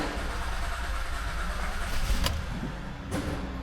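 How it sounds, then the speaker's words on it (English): A Honda Odyssey J-series V6 being started, then settling into a steady idle in a garage, its low mechanical hum continuous and close, with a couple of sharp brief clicks near the end. "And it started up just fine."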